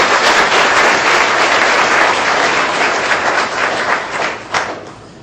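An audience at a leadership training gathering breaks into dense, loud applause that holds steady at first, then thins and fades toward the end, with no talking over it.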